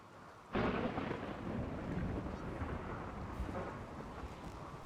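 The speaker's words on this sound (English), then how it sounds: "and the honors of construction go to Jake, who starts his work just as a rainy thunderstorm sets in." A thunderstorm in the video game Rimworld, set on an extreme desert map: a loud thunderclap breaks in and rumbles on under a steady wash of heavy rain.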